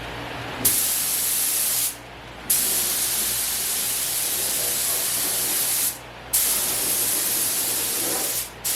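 A spray gun lays down epoxy primer in long steady hissing passes, loud and close, broken by short pauses where the trigger is released, with no talking.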